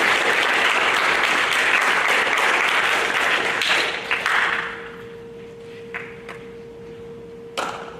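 Audience at a seventh-grade school awards program claps in a loud sustained round of applause that tapers off to a few scattered claps over a faint background tone.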